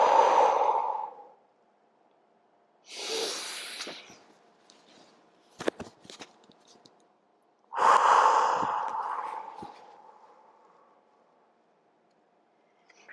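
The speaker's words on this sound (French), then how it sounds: "Et je respire ici." Slow breaths during a yoga floor sequence for the hips, three long exhalations or sighs spaced several seconds apart, close and fairly quiet, with soft rustling between them and no talking.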